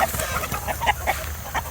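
Chickens clucking on a farm, several birds close by with repeated short clucks and calls in an irregular rhythm over steady outdoor background noise.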